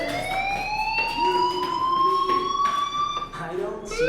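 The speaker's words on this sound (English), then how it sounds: "Hey, do you hear that fire alarm?" In the video game Life is Strange, a fire alarm rings, a steady rising electronic siren tone with harmonics running throughout, loud and close, with voices talking beneath it.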